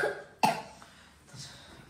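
A single sharp cough bursts out close by, preceded and followed by quiet room sound, from a boy who is a little ill.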